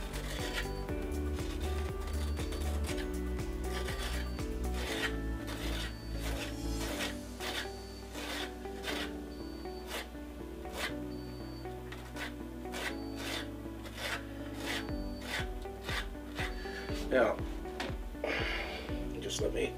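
A spatula spreads a granular material onto a gravel building foundation in a run of close, rough scraping and rasping strokes, with a person speaking at times.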